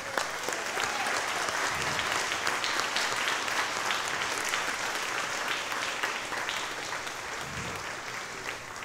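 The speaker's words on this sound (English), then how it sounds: "let's give them a round of applause" A church congregation applauds its rising teachers and advisors, a dense, steady wash of clapping from many hands that fills the room and holds without a break before easing slightly at the end.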